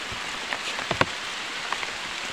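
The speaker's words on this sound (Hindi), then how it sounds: "और बारिश हो रहा है" Rain falls across a hillside pineapple plantation in a steady, soft patter, with a few sharper drops standing out nearby and no voices.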